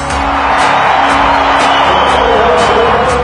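A sellout stadium crowd at the Navy vs Notre Dame football game cheers and roars continuously, a loud dense wash of voices with scattered whoops.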